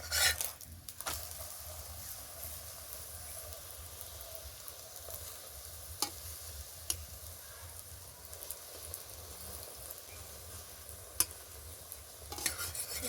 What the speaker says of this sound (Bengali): এইভাবে সম্পূর্ণ পরোটাগুলো আগে ভেজে নেব